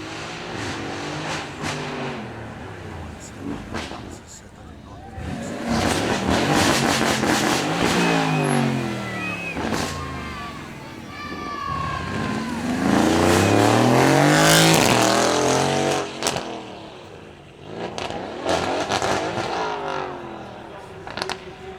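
A V8 supercar at a demo run revs hard in rising and falling bursts, passing close and loud, with a voice talking over the engine between runs.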